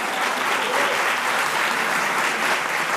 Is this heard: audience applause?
yes